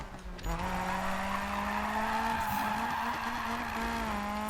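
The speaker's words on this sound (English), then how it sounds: "You can get some long slides with this car" A Toyota AE86 drift build in Need for Speed 2015 sliding in a long drift, its tires squealing in a sustained high whine over the revving engine, loud and close throughout with no speech.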